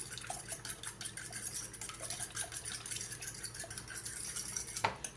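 A utensil stirring potato omelette ingredients in a bowl gives soft, steady scraping and light clinks throughout, quiet and close, with a sharper knock near the end.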